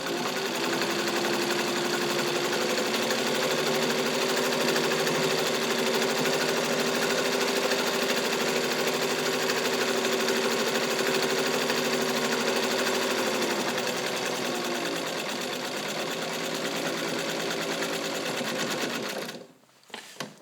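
A fully serviced 1942 Kenmore Streamline rotary sewing machine, Model 117.59, stitches with a steady close whirring hum and fine rapid needle rhythm, running smoothly for nearly twenty seconds before stopping abruptly.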